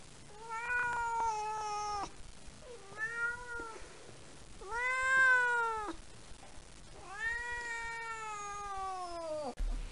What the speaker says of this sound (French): Il miaule, surtout pour communiquer avec ses maîtres.